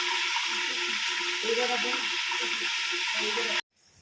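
Curry leaves frying in hot oil with tomato, a steady loud sizzle close by that runs unbroken before cutting off abruptly.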